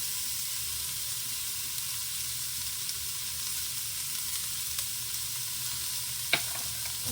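Shallots searing in hot oil in a pan for braised short ribs, giving a steady, close sizzle and hiss throughout with a faint clink near the end.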